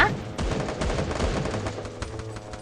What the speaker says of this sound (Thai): เอ้ยยิงอยู่ยิงไม่โดนเลย